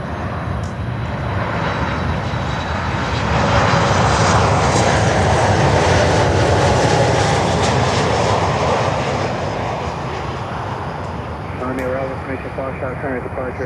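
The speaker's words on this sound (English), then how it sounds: "Next inbound, American Airlines 737-800 from Cancun in Mexico." American Airlines Boeing 737-800 jet from Cancun on approach, a loud broad engine roar that swells to a peak mid-pass and then slowly fades, with a voice talking over it.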